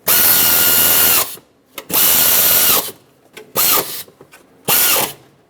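Power ratchet driving intake manifold bolts on a Ford E-350 with a 5.4L V8, four loud whirring bursts of about a second each, separated by short pauses and heard alone.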